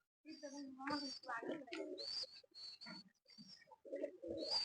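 Breeder pigeons kept at home coo in soft, repeated throaty phrases close by, with short pauses between calls.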